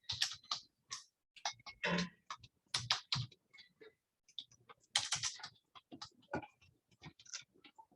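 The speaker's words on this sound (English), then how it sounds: "So much typing" Rapid typing on a computer keyboard during a programming session, heard close up as irregular bursts of crisp clicks separated by short pauses, with no talking.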